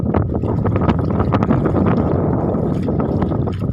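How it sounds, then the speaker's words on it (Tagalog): Strong wind with rain buffets the microphone in a constant loud rush, with gusty rumbling and no voices. "malakas po ang hangin gawa ng may ulanin"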